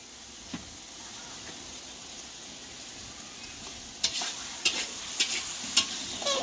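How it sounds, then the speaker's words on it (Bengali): Meat cooking in a large wok (kadai) for a family birthday meal, with a steady sizzling hiss and a few sharp scraping stirs near the end. "এত বড় কড়াইতে আসছে মাংস হচ্ছে"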